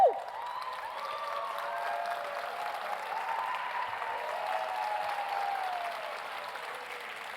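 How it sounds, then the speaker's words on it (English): Sustained applause fills a hall at a live community foundation event, opening with a sharp whoop and then settling into steady, even clapping from a sizable crowd, a faint high tone ringing underneath. "a lot of applause."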